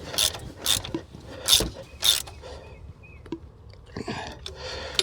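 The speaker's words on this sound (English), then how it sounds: "you just kind of want to work your way through the 3 bolts and tighten them down in stages." Ratchet clicking in short bursts while tightening thermostat housing bolts on a Chrysler 2.4L engine, close and fairly quiet, with brief pauses between the bursts.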